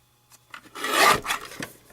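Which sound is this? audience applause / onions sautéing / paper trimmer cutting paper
paper trimmer cutting paper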